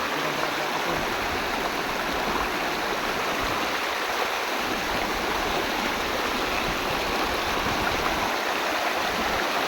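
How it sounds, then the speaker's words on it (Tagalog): A large river rushing steadily during a difficult crossing, with a loud, constant broadband roar of flowing water close by and no talk. "Malaki pong ilog dito."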